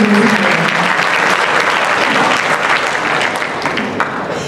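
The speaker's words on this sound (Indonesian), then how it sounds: "Silakan berikan tepuk tangan meriah Bapak dan Ibu hadirin sekalian." Audience at a national naval seminar gives a loud, sustained round of applause, dense clapping that fades slightly toward the end.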